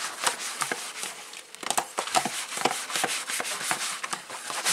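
Dishes being washed by hand at a kitchen sink, with a worn cutting board scrubbed, giving close, irregular rubbing and scraping strokes with short clatters and no talk.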